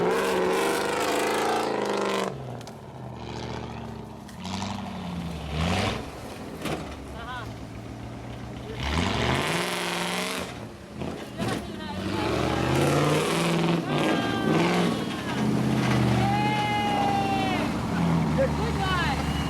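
An unmodified Range Rover climbs an off-road route out of Vineyard End at the Rhino Charge rally in Kenya, its engine revving and surging in repeated bursts, mixed with a narrating voice throughout.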